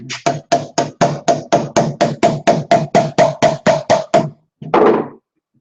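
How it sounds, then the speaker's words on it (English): Around fifteen sharp, evenly spaced knocks of a hammer tapping on a casting mold in a workshop, loud and close, followed by one heavier rough thud. "I might need a hammer."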